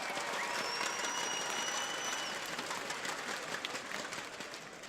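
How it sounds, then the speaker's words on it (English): Esports crowd at a Counter-Strike event cheering for Team Liquid, a dense wall of applause and shouting that holds steady and loud for several seconds, with a faint whistle-like tone above it. "How about a cheer for Team Liquid?"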